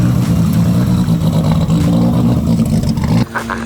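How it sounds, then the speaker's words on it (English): Turbocharged VL car revving hard through a burnout, a loud continuous engine roar with strong low harmonics that cuts out abruptly near the end, leaving a lower idle under crowd noise. "The car did some weird cutting stuff, so it didn't do the greatest burnout"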